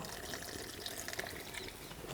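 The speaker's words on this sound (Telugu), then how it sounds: "ఒక అరకప్పు నీళ్లు పోసుకుందాం" Half a cup of water splashing and pouring steadily into a pot of ash gourd and masala paste, a soft continuous liquid rush at low volume, with no voices.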